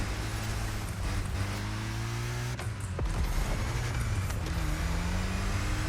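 A 1955 Porsche 550 Spyder races in The Crew Motorfest, its small engine droning steadily with pitch shifts as it accelerates and changes gear, loud and continuous with a brief dip midway.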